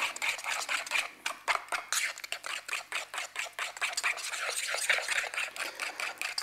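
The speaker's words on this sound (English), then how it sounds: "So now all we got to do is mix this up." Ingredients for a venison meatloaf being stirred and mixed in a bowl, giving a steady run of quick, rhythmic scraping and squishing strokes that sound close and continuous throughout.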